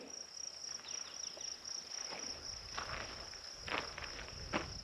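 Crunchy-soled shoes walk on dry ground at a prairie park with sandstone cliffs. Steps are close and irregular, heard over a steady chorus of grasshoppers, with a few louder crunches toward the end.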